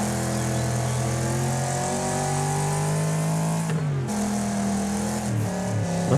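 A race car engine in Wreckfest drones loudly and steadily, rising and falling in pitch with a brief throttle lift before revving again, alone with no talk.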